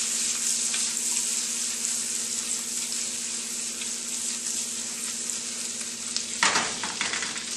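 Shrimp scampi sizzles loudly in a pan, with continuous frying crackle and stirring, ending in a brief burst of scraping and clatter near the end.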